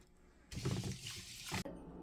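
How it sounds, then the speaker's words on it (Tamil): Pearl millet being washed in water in a kitchen gives a short burst of splashing and swishing that lasts about a second before cutting off, quiet and close, with no talk. "தண்ணியில் நல்லா சுத்தமாக கழுவ வேணும்"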